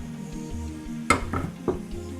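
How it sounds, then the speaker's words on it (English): Sambal paste poured into five tablespoons of hot coconut oil in a pan, a sharp sizzle bursting up with a few scraping stirs and clinks of a utensil, close by, over a steady low background hum. "I'm going to pour my sambal mix into the oil."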